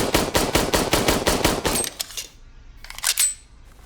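An M9 pistol empties its magazine in a rapid mag dump, fired from supported cover at a shooting range. About a dozen sharp, loud shots crack in quick, even succession, then stop, followed by faint clicks.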